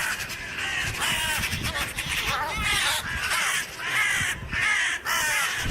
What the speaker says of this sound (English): This sparrowhawk learned its lesson the hard way after getting mobbed by a crow